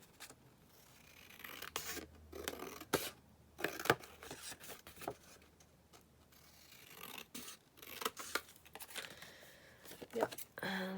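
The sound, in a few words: scissors cutting paper for an envelope pocket booklet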